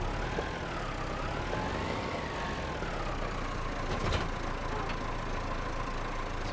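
A small 90-horsepower farm tractor in Farming Simulator 25 idles steadily, a continuous even engine drone at moderate level, with one brief click partway through.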